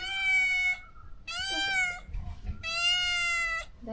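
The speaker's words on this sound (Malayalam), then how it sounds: "എൻ്റെ ഒരു പൂച്ചക്കുട്ടിയുടെ ശബ്ദം കേൾക്കുന്നുണ്ട്" A kitten gives three high, drawn-out meows, close and clear, separated by short pauses with faint rustling between.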